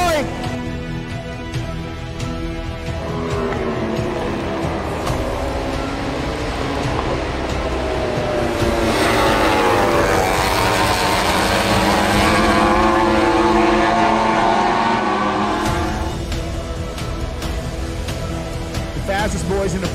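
Superbike motorcycles at the final round of the 2023 Philippine Superbike Championship, including an Aprilia, rev and roar past, a loud sweeping engine whine rising and falling in pitch under a commentator's excited talk.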